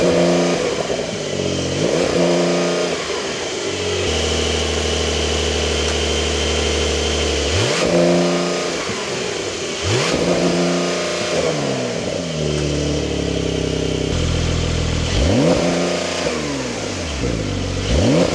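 A base-model Porsche 911 Carrera engine revs repeatedly from idle, each blip rising sharply in pitch and falling back, loud and close with a steady idle between revs.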